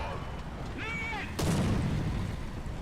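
A tank cannon fires in the War Thunder ground-forces battle: one sharp, loud boom followed by a rumbling tail, after a stretch of talking.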